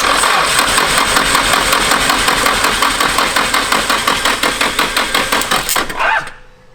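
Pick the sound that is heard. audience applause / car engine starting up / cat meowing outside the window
car engine starting up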